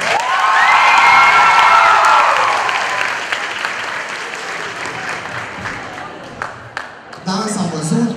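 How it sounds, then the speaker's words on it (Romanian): Loud audience applause with cheering and whoops fills a school ball hall, strongest at first and then tapering, with a voice speaking over it near the end. "Aplauze pentru Ben și Antonia."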